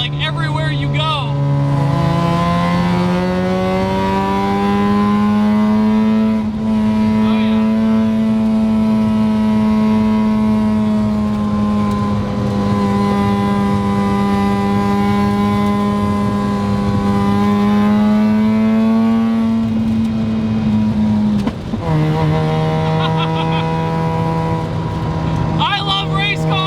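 A naturally aspirated, non-turbo 13B rotary engine in a Mazda FC RX-7 race car holds a loud, steady, buzzing high rev, briefly drops and climbs again, then dips near the end.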